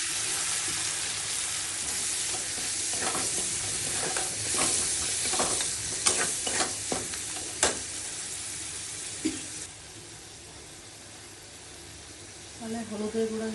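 A paste of onion, green chilli, ginger and tomato fries in a pan for a Bengali prawn curry with jackfruit seeds, giving a constant soft sizzle broken by several sharp spatula clicks and scrapes.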